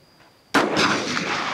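A single sharp, loud pistol shot cracks out at a shooting practice range, followed by a brief echoing decay after a moment of near silence.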